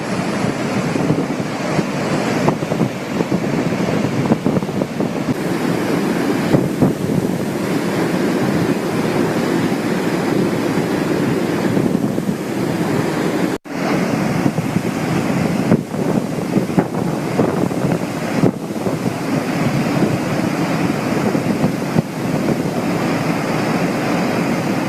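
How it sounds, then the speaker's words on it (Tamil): Flood water at Courtallam waterfall, swollen by continuous rain, gives a constant, heavy, broadband roar with no pauses for the whole stretch. There are no voices over the rushing water. "தொடர் மழை காரணமாக குற்றால அருவிகளில் 3வது நாளாக வெள்ளப்பெருக்கு நீடிக்கிறது."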